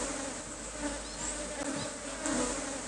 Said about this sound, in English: An African bee known as Apis mellifera andersoni